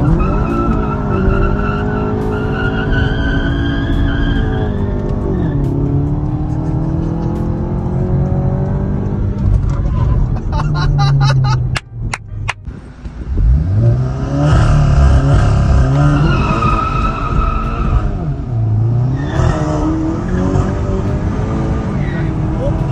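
Tuned Stage 3 Volkswagen Polo GTI driven hard, with a loud engine rising and falling through the gears, tire noise and brief rattles midway, heard close from inside or near the car.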